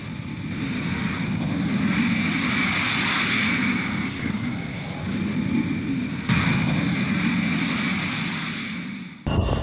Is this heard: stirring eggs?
no